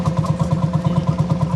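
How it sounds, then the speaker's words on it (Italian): A 1956 Landini tractor engine chugs in a parade at a threshing festival in Campodoro, its slow, even thumping idle pulsing in a steady rhythm close by, with no talking over it. "qui in sfilata c'è un trattore, un Landini di che età? Del 56."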